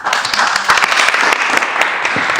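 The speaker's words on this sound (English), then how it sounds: "One more round of applause to Kizioka" Sustained applause from the crowd at a national competition, dense clapping held steady and loud throughout with no speech.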